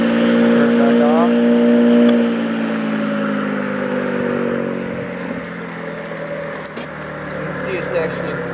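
A homemade cordless electric push mower runs with a steady motor whir that dips slightly partway through, with someone talking over it.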